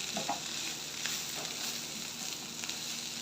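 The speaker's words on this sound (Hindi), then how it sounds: "ये देखिए अच्छी तरह करेले फ्राई हो गए हैं।" Bitter gourd (karela) slices fry in a little oil in a pan, giving a constant, close crackling sizzle with a few light stirring scrapes throughout and no voices.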